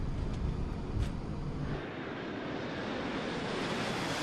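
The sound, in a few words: airliner taking off from Tocumen airport, Panama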